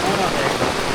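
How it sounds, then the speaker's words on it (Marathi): Heavy monsoon rain pours down in the Konkan countryside, a dense, loud, unbroken hiss of drops hitting surfaces up close, with a voice faintly mixed under the downpour. "जोर वाढला आहे पावसाचा"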